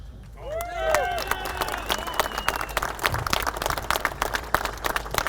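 A large outdoor Second Amendment rally crowd claps and cheers for a speaker, with sustained dense applause and scattered whoops building after a brief shout at the start.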